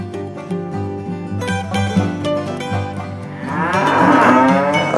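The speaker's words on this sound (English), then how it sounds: "These are baby cows that are young" Young cows on a dairy farm mooing loudly and close, long drawn-out calls overlapping one after another.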